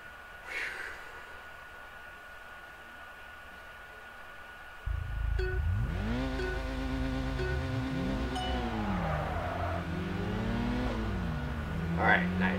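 Engines rev and race in the video game Kaido Racer 2, rising and falling through the gears, with someone talking over the steady motor drone.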